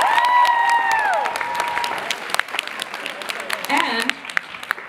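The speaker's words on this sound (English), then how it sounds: "Let's give him a round of applause" A school audience at a winter concert applauds and cheers after a song, opening with a held tonal note fading out, then scattered sharp claps and crowd noise, with a voice talking briefly near the end.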